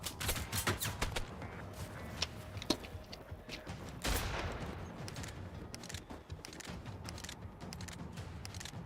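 Gunfire in the video game Generation Zero: a rapid run of sharp shots opens the stretch, followed by a steady busy rattle and scattered cracks over continuous mid-level noise, with one louder burst partway through.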